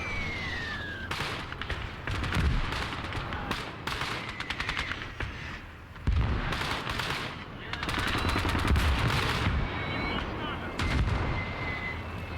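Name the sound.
tank machine guns firing in video game Call to Arms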